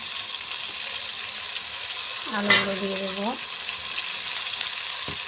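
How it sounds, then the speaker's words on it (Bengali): Soft, steady sizzle of potatoes frying in oil, with a brief rising whine partway through. "এরপর আমি ওই তেলের মধ্যে আলুগুলো দিয়ে দেবো।"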